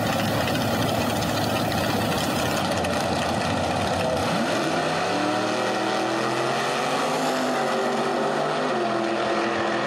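A 1958 Corvette and a 1972 Dodge Colt idle loudly at a drag racing start line at Beech Bend Raceway, with a dense, steady engine rumble and a lumpy idle that settles into a lower, rhythmic throb partway through.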